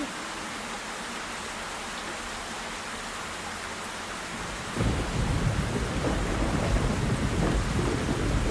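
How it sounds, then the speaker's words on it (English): Rain and a thunderstorm in the video game Black Mirror III: a steady hiss of rainfall, joined partway through by a heavy, rumbling roll of thunder that thickens the downpour and lingers to the end. "Rain, rain, go away."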